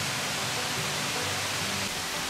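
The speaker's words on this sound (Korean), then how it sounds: "용추폭포에서 내려온 물이 쌍폭포로 흘러가는 모습입니다" Water tumbling down from Yongchu Falls toward Ssang Falls in a mountain valley, a steady, broad rushing roar that stays constant and fairly close throughout with no other sounds.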